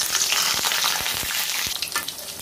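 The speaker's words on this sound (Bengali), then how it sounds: "আমি এইভাবে লাল লাল করে ভেজে নেব আলুটাকে।" Potatoes frying in hot oil until reddish-brown: a loud, close sizzle with several distinct stirring knocks and scrapes against the pan, no voices.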